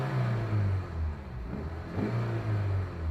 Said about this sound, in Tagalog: So, try natin ngayon mag-silinyador.